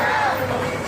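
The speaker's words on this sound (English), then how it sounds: "And now the crowd are getting lively." Lively crowd noise at a street protest, a dense wash of overlapping voices and cheering that stays steady and loud throughout the short moment.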